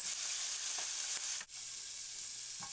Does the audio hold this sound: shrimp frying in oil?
yes